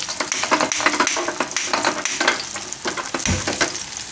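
Sweet potato and fenugreek tikki frying in a pan over low gas, a dense continuous sizzle with crackling pops throughout, close and fairly loud with no talking.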